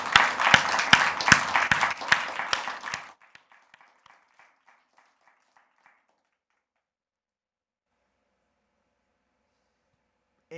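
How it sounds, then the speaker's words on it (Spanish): A church congregation claps loudly for about three seconds in a dense burst, then the applause thins out into a few scattered, fading claps before giving way to silence. "cuántos no podemos dar un aplauso fuerte al Señor por lo que, tan solo por lo que representa esta obra?"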